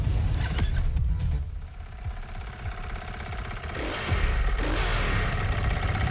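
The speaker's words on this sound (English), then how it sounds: "Now that is the sound of the KTM 450 motorbike that you can actually play in the game." A KTM 450 motorbike in the racing game The Crew Motorfest revs and idles, its engine rising and falling in loud bursts with a steady rumble and brief drops between throttle blips.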